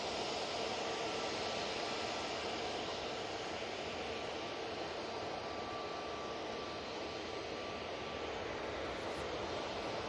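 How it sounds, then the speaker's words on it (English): A Ryanair airliner from Bologna touches down at Manchester Airport, heard as a faint, distant, steady broadband roar of jet engines and rushing air that holds evenly throughout with no voices. "And next arrival, just about to tap touchdown. And it's that Ryanair that I mentioned a moment ago."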